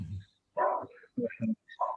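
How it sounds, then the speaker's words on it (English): A dog barks indoors in short bursts, several quick barks spaced across a couple of seconds, moderately close and fairly loud with no other sound between them. "Excuse the barking if you hear it."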